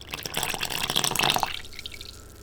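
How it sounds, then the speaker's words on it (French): Water pours into buckwheat bread batter in a short splashing stream that tapers off after about a second and a half, close up and alone. "Puis on verse les 160 g d'eau restants."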